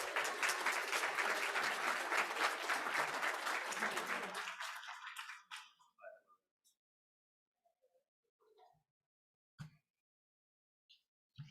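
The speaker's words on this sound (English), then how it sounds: "Can we get a round of applause for Gavin Smith?" An audience at a student design awards event claps for a presenter in a sustained, dense round of applause that fades out after about five seconds, leaving near silence with a few faint stray sounds.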